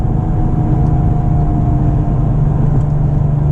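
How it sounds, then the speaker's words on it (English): Road noise inside a 2009 Porsche 997 Turbo Convertible on the move: a loud, steady low rumble with a faint engine drone, constant throughout and with no talking. "It's got some road noise"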